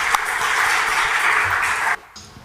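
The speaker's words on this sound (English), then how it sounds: "please help me welcome them on the stage with a huge round of applause." Audience applause welcoming speakers onto a stage for a moderated chat, a dense steady wash of clapping that cuts off abruptly near the end, leaving a quiet room.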